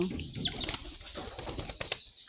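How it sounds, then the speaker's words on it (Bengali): Pigeons flap their wings during feeding time at a home dovecote, giving soft rustling flutters in a few quick bursts close by, with no talking. "এখন কবুতরকে খাওয়ানো হচ্ছে এই দেখো"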